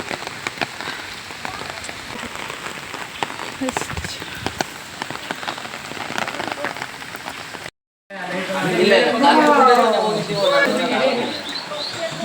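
Steady rain patters on surfaces at the Nisargadhama nature park while visitors gather, a dense hiss that briefly cuts out and then resumes louder, with voices talking under it.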